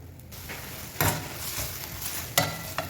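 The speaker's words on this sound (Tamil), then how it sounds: "ஸோ இது கொஞ்சம் நல்லா ஃப்ரை பண்ணிக்கோங்க" Tuna filling fries in a pan, a quiet soft sizzle broken by a few short stirring scrapes and clinks at intervals, no talking.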